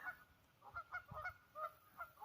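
Waterfowl honking repeatedly beside a bike trail in Wisconsin on a winter ride, a series of moderate calls spaced through the moment with light background ambience.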